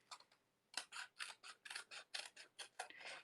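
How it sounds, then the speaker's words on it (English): Scissors snip through a piece of paper during papercraft work on a treat box, a quick series of about a dozen crisp, close cuts in a steady rhythm after a brief pause. "we can just cut that off and we will be all good"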